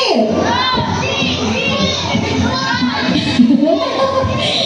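Teams of children at an afternoon event in Daet shout and cheer together, a loud, continuous crowd of young voices with high yells rising over the din throughout.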